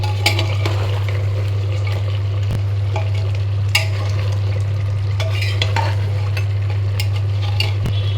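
Beef curry stirred in a pot after broth is poured in, a steady low simmering sizzle with scattered scrapes and clinks of a spoon against the pan.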